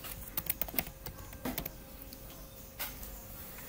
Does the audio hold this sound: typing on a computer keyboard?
yes